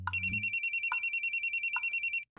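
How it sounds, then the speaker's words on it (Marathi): A mobile phone ringtone plays loud and steady for about two seconds, a rapid repeating electronic trill with a soft low note at the start, then it cuts off. "हा कोणाचा फोन वाजतोय?"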